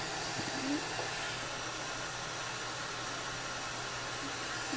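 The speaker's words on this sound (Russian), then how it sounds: "Я думаю, вам слышно, фен не сбрасывает, не набирает, работает себе в одном режиме." A YIHUA YH-853AAA hot air soldering station fan runs at a constant, steady hiss with no change in speed, a quiet even rush of blowing air throughout, its speed control not responding.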